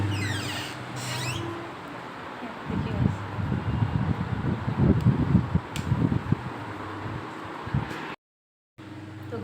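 A steady electric fan hums and whirs close by, with rustling and some low movement noises over it and a brief dropout near the end.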